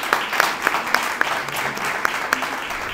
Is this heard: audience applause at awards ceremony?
yes